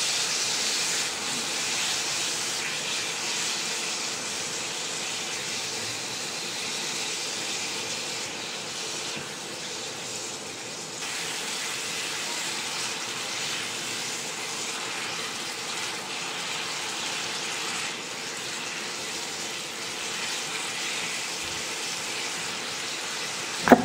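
Marinated chicken breast frying in olive oil gives off a steady, broad sizzling hiss that holds evenly for a long stretch, close and fairly loud with no voices.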